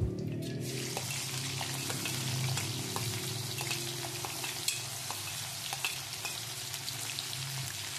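Finely chopped onion hits hot oil with cumin seeds, a loud close sizzle that then settles into a steady frying hiss with a few light stirring clicks.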